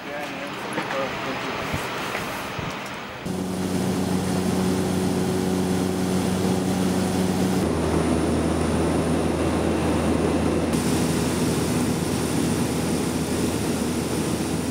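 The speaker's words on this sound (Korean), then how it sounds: "그곳에서 다시 국내선 비행기로 2시간을 날아가 6인승 비행기에 올랐습니다" A six-seat small airplane flies over Alaska, filling the cabin with a steady, loud engine drone that holds unbroken for most of the clip.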